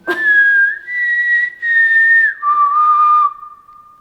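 A person whistles a few sustained, clear notes close by inside the Trans-Allegheny asylum, holding each tone before stepping down in pitch, with no talking.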